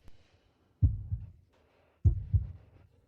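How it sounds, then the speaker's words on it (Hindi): A heartbeat sound effect quickening from heat plays alone at a steady pace, two clear double thumps, each a low lub-dub pair, about a second apart. "गर्मी से मेरी धड़कन तेज हो गई है।"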